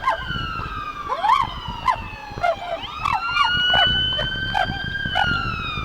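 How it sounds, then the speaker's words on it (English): A police car siren wails up and down repeatedly, loud and fairly close, with a police K-9 dog barking in short bursts over it at a demonstration. "he has a siren going"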